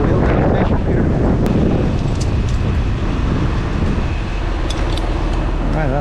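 Strong wind buffets the microphone outdoors, a loud rumbling roar that fills the whole stretch and masks everything else.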